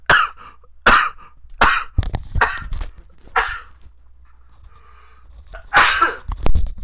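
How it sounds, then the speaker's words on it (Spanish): A series of loud, close sneezes and coughs from someone who is a little sick, coming in sharp bursts with short gaps between them. "Ay, güey, perdón, estornudé."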